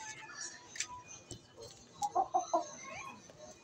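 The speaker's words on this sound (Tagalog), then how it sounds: "Ang ingay ng manok na to." A noisy backyard chicken gives a short run of clucks and squawks, fairly close, over a busy outdoor background with occasional faint voices.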